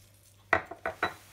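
Utensils clink against a bowl while tossing a sardine and quinoa salad dressed with vinegar, lemon juice and salt: a few short, close scrapes and taps in quick succession within a quiet kitchen.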